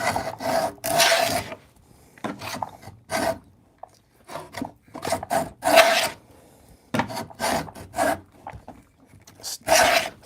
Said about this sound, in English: let's cut some notches or some grooves